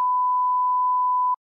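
A steady electronic censor bleep masks a spoiler about a film, one continuous pure tone held loud and unbroken for over a second before cutting off abruptly.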